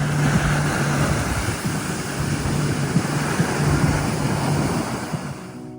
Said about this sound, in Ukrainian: Залишила вам ось такі звуки хвиль, аби ви хоч трішки побули разом зі мною